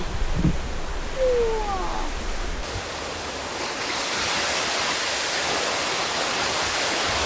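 Waterfall pouring over lava rock columns at Sap Phlu in Phetchabun, a loud, dense roar of falling water that swells partway through. A brief bird-like chirp is heard early.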